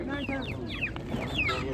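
Chickens and roosters at a poultry market in Ganja, Azerbaijan, clucking and calling in a dense, overlapping chorus close by, with people talking through it.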